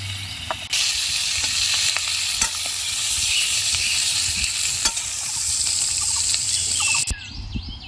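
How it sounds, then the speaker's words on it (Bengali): Oysters fry in a pan, giving off their own water. A loud, continuous sizzle runs throughout, broken by occasional clicks of stirring, with no voices. "দেখুন, ঝিনুকগুলো ভাজার সময় ঝিনুক থেকে কত জল বেরিয়েছে।"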